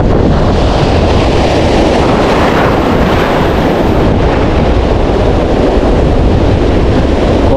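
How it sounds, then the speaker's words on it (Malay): Strong wind blasts across the microphone at a seaside fishing spot at Lampuuk, Aceh, a loud, steady roar with surf mixed in beneath it and no voices throughout. "Kondisi angin sangat kencang teman-teman."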